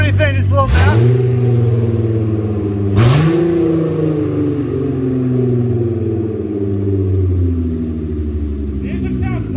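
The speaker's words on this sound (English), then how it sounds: "The engine sounds way better when you can't hear it over the exhaust" A Volkswagen Passat engine revs hard twice, rising sharply and then settling into a loud, steady drone with exhaust noise, while people talk over it.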